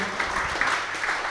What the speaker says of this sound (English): Give Amy a round of applause, everyone.